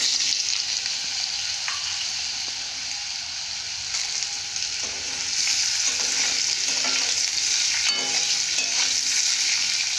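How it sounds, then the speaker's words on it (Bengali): Sliced bitter gourd and potatoes sizzling in hot oil in a pan, a dense, close crackle with spatula scrapes that briefly softens and then swells louder again. "এখানে আলুটাকেও খুব ভালো করে ভেজে নেব"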